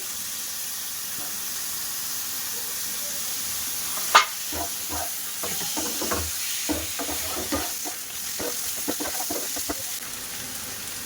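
Small chicken pieces dropped into a hot pan for chicken patties, giving a low sizzle with scattered crackles and pops that pick up after a sharp clatter, steady and close.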